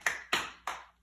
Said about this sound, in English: we're going to clap our hands over our toes and over our knees and over our tummies and over our nose